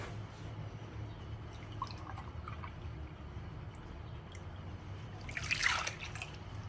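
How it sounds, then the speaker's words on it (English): Milk poured into a mixing bowl for a dinner or dessert recipe, a soft, steady liquid trickle under a low background hum, with a brighter splashing burst near the end. "I'm gonna add a whole cup of milk"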